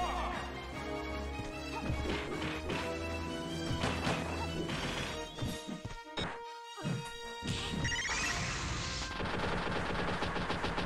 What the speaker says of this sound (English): And a bomb was just unleashed on him.